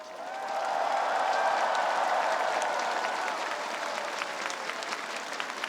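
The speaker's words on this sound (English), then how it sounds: "huge round of applause" A large crowd at a national day parade breaks into a huge round of applause, a broad swelling roar of clapping that holds steady, with faint cheering tones mixed in.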